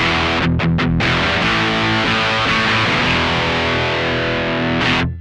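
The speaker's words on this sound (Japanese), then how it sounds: "エッジの効いたですね、粗い歪み、すごいザラザラした印象の音です。" A Gibson 335 guitar played on its rear pickup through a BOSS DS-1 distortion pedal rings out in loud, sustained, gritty chords, with a few short picked strums at the start and end.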